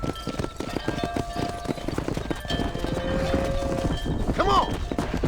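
Horse hooves clip-clopping rapidly at a gallop in the Red Dead Redemption video game, a steady rhythmic pounding close up, with game voices shouting and music tones layered over it.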